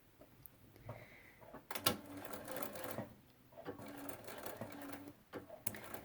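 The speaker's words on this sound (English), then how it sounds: "I'm going to sew a very generous 1/4 inch seam" Quiet bursts of a sewing machine stitching a wide binding seam onto a placemat edge, short runs of rapid mechanical whirring separated by pauses and small handling clatters, recorded close with a low background.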